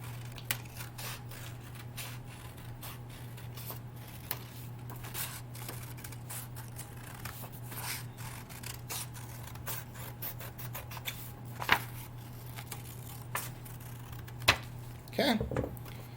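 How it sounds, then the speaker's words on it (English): Scissors snip repeatedly through paper in short, close crisp cuts over a low steady hum, with a few louder snips near the end. "I'm going to take my scissors and I'm going to cut this pumpkin out"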